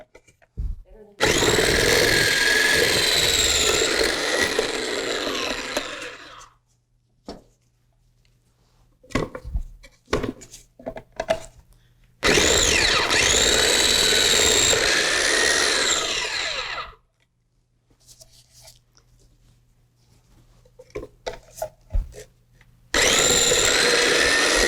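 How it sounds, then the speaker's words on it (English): A hand-cranked grater grinds food in three long, loud, steady bursts separated by pauses filled with light clatter and handling noises on a table. "It is a handy little grater when you get it going."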